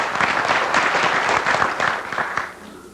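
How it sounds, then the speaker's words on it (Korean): Audience applause at a Korean book launch ceremony honoring the professors being introduced, a warm, steady roomful of clapping held for a few seconds before tapering off. "다시 한번 박수 한번 받으셔야"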